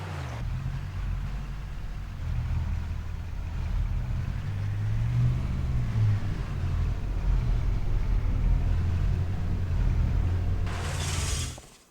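A truck in Farming Simulator 25 rolls slowly into a tight shed, its engine a steady low rumble that rises slightly midway, then a brief louder clatter before it cuts off at the end.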